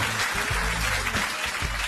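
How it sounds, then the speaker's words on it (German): An audience at a German student lecture event claps, a steady spread of applause with some low rumbling thumps mixed in underneath. "Dein Applaus."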